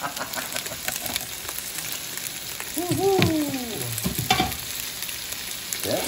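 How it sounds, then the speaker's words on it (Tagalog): Sausages and meatballs frying in a pan, giving a steady sizzle throughout with a few brief stirring or scraping sounds near the middle, close and moderately loud with no talking. "Kailangan lutuin po natin mabuti itong mga sausage natin. Saka mga meatballs."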